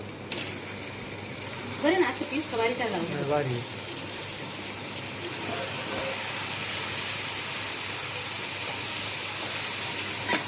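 Mutton sizzling as it goes into a hot pan, a loud steady hiss that fills the whole clip, with a voice speaking briefly over it early on.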